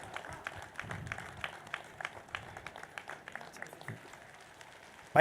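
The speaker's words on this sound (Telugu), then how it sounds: "ప్రతి ఒక్కరూ ఒక్క నిమిషం నిలబడి చప్పట్ల ద్వారా నీకు తెలియపరచాలి" A standing audience at a gathering applauds together, a soft steady spread of many hands clapping heard at moderate distance, ending in a sudden louder burst.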